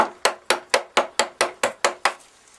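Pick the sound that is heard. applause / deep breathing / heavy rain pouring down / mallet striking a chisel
mallet striking a chisel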